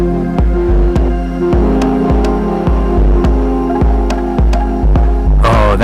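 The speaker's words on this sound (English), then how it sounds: "Oh, that synth is great" A synth line in a dub techno track with its low end cut by EQ pulses in a steady loud rhythm, with repeated chord stabs over a driving beat and no voices.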